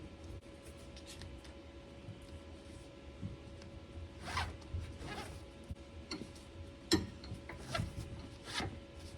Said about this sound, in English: take the strap and go back through the other side of the buckle